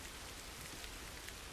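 Steady rain from the video game The Last of Us Remastered, a dense, even hiss of falling drops and splashes on surfaces, continuous and moderately loud with no voices.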